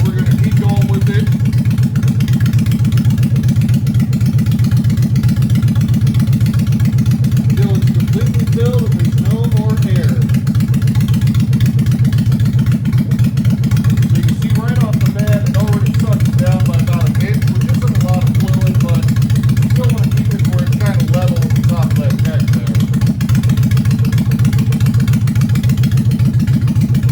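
A Honda Shadow 750 motorcycle engine idles steadily and closely during a coolant flush, a continuous low rumble running throughout while someone talks over it.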